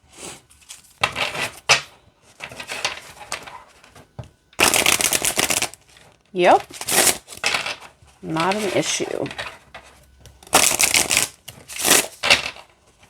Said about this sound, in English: let's see how it shuffles.